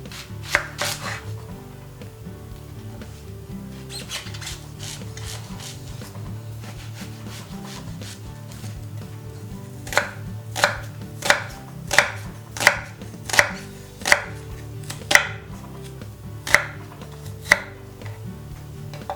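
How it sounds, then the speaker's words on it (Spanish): A knife chops spring onion finely on a board for a vegan pumpkin pasta sauce, starting with soft scattered cuts and then a run of about ten crisp, evenly spaced chops that ring close and alone. "Picamos la cebolleta."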